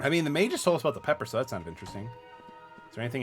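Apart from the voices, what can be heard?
No distinct noise like a dog, phone or traffic.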